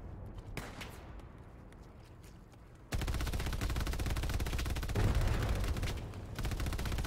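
Automatic machine gun fire rattles in rapid bursts during a Hell Let Loose match on Hill 400, quieter and scattered at first, then a sustained, loud continuous stream of shots from about three seconds on.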